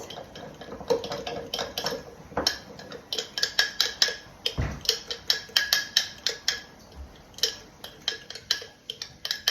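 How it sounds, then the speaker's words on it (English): A fork stirs sourdough starter and flour inside a jar, producing a quick run of sharp metallic clinks and taps against the glass in an uneven rhythm, close and clear, with one duller knock midway. "I'm going to get a fork and I'm just going to give it a mixy mix"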